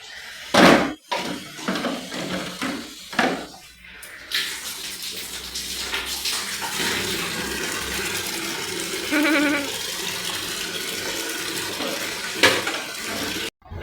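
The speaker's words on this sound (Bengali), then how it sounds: "মা জল ভরতে লেগে গেছে" Water runs and splashes as bottles are filled, with a few sharp knocks and clunks early on, then a steady rushing pour that rises and falls nearby.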